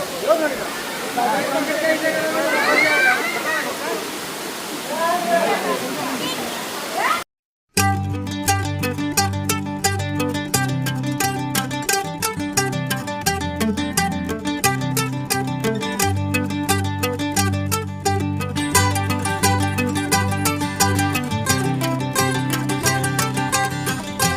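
Akasha Ganga waterfall at Tirupati rushes with a steady, broad hiss of falling water under nearby talk, then cuts abruptly to loud rhythmic music for the rest.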